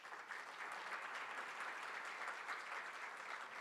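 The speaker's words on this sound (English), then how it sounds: "Give them a big round of applause" An audience at a finance innovation forum gives a panel a big round of applause, an even, dense patter of many hands that stays steady throughout at a moderate distance.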